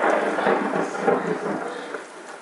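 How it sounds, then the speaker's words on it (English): Steady rain with rolling thunder rumbling through it, a dense continuous wash of falling water and low booming that stays loud throughout with no voices. "I freaking love the sound of rain and thunder."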